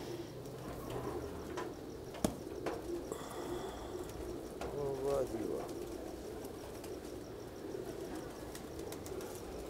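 Punjabi breed pigeons coo softly nearby in low, repeated warbles, with a few chirps, a sharp click, and faint voices in the background.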